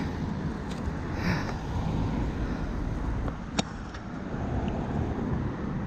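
Road traffic passing in Kendal, heard from the roadside as a continuous rumbling wash of vehicles with wind buffeting and a brief sharp click partway through.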